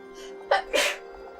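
A single person sneezes close by, a short sharp sneeze with a quick intake just before it, heard alone over a quiet game soundtrack hum.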